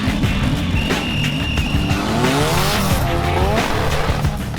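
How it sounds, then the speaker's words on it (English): A loud, revving off-road race car engine roars close by at an off-road charity race, with tires squealing and skidding as the pitch rises and falls. "You can hear the engine sound, the loud engine sound."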